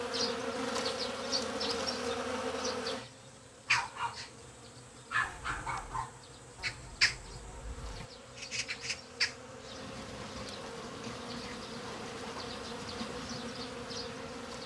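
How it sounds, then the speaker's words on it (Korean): Honeybees swarm over freshly opening ivy blossoms, a steady close buzzing drone that runs the whole time, joined by sharper individual wingbeat passes as bees fly near. "벌떼같이 지금 날아든 거야"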